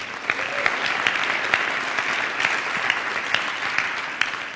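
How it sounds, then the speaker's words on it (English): An audience applauds steadily at a business talk, a dense, continuous patter of many hands clapping at moderate loudness with no voices over it. "let's just give him a round of applause just for that"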